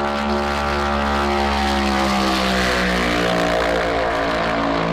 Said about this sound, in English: NASCAR posted this clip to their social media, and the engine sounds different